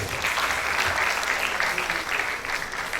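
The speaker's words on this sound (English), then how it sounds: "Please clap for yourself." Students at a school's World Environment Day event clap for themselves, a dense, even wash of applause from a large group lasting a few seconds.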